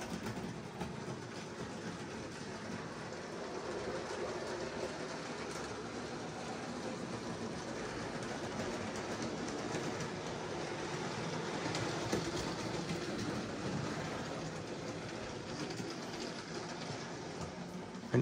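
Model train rolling along a test layout track, a steady, continuous rumble of wheels and motor with faint rhythmic clicking throughout, fairly close and even in level, no voices.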